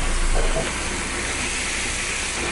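Ground beef with tomato sizzling in a pan over medium heat, a steady close hiss that stays even throughout with a slightly louder start.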